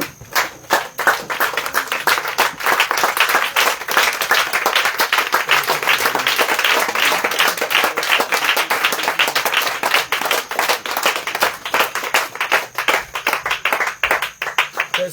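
A church congregation at a gospel gathering applauds steadily and loudly, dense rapid clapping filling the space without a break, with faint voices mixed in.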